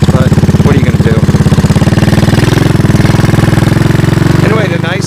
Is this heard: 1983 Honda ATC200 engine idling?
yes